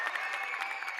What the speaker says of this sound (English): I'll just bring applause myself.